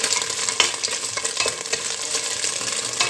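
Loud, steady sizzling of lamb frying in a pot, with scraping clicks as it is stirred; no voices.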